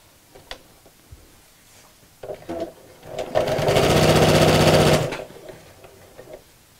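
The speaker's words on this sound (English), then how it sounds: "we're going to sew all four pieces together" A domestic sewing machine stitching four fabric pieces together for a picnic blanket, starting with a few clicks, then running in a steady close whirring burst for about two seconds before stopping.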